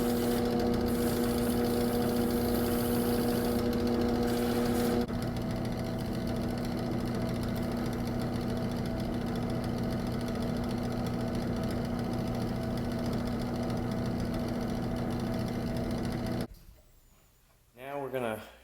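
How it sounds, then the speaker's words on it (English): A drill press spins a wooden ring on a mandrel while sandpaper shapes it, giving a steady, close motor drone with a continuous hum that shifts after a few seconds and cuts off near the end. A person talks over it. "Now I've moved over to the drill press, and we'll go ahead and shape it with sandpaper"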